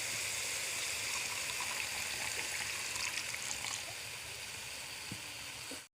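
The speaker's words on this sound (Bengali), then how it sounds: "মশলা থেকে তেল ছেড়ে গিয়েছে, এবার দিয়ে দেব জল।" Water pours into fried spice masala in a pan for a fish curry, a steady rushing, bubbling hiss that holds for several seconds, eases slightly, then stops abruptly.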